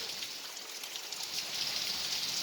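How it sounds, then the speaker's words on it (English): Faint, steady rainfall patters with a soft hiss, gently swelling slightly toward the end. "But then rain is something else."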